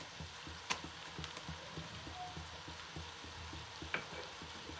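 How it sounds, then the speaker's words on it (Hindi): Garlic-ginger paste ground with green chillies fries with onions in a pan, a quiet continuous sizzle with soft crackles and light spatula scrapes. "लहसुन अदरक को भी थोड़ा सा फ्राई करेंगे साथ में"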